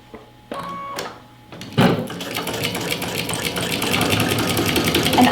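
A sewing machine fitted with a walking foot stitches a pillow panel layered with Soft and Stable, starting with a few short bursts and then running steadily and loudly up close.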